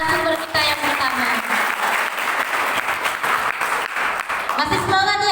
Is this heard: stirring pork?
no